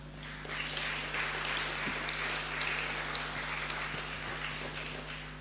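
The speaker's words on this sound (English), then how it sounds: "I think we should all applaud one another." Synod members applaud one another at a diocesan gathering, a broad, sustained round of clapping from a large hall with a low electrical hum underneath and no talk.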